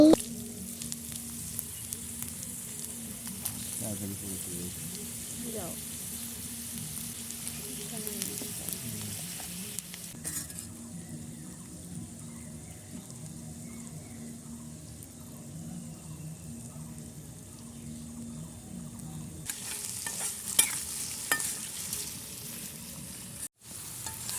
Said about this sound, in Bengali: এবার আলু ভেজে নেই